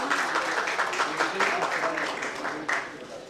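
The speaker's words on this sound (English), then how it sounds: "Big round of applause, please, from everyone" An audience at an award event for a Mighty Mom honour claps in sustained applause at a steady level, with voices mixed in beneath the clapping.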